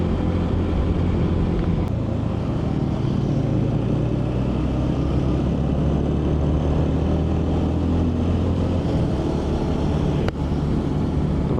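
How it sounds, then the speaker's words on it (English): A TVS Ronin motorcycle's exhaust rumbles steadily and loud throughout a group Sunday ride, with constant wind and road roar layered over the low engine drone and no talking. "There is nothing better than the Ronin's exhaust note in this particular price range."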